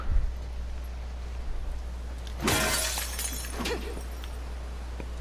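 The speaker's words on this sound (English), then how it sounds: "That's more glass broken." A single sharp burst of breaking glass in The Last of Us Part II, followed by a brief scatter of falling shards over a constant low hum.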